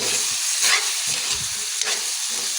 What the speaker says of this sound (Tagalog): hayaan na lang natin siyang kumulo